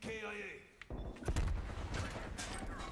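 Gunfire from a video game shooter: a dense burst of shots and thumps after a quieter stretch with voice-like sounds, continuing loud and busy to the end.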